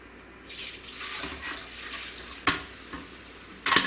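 Cherry Pepsi poured into a can cooker holding St Louis ribs makes a steady liquid pour and fizz, with a couple of sharper clinks near the end.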